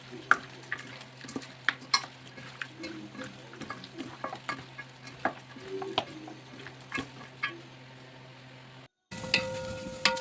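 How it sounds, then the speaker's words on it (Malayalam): Coconut, black pepper and curry leaves roasting in a pan for mutton curry, with steady frying sizzle broken by frequent clinks and scrapes of a stirring spoon; a brief drop near the end, with no talk. "തേങ്ങ, കുരുമുളക്, വേപ്പില ഇതെല്ലാം കൂടി ആദ്യം തന്നെ വറുത്ത് കോരണം."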